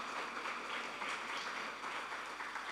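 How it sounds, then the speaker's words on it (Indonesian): Steady, distant audience applause at a formal talk on restorative justice, a soft, continuous wash of many hands clapping at low volume with no clear individual claps. "jadi tepuk tangan kita semua ya"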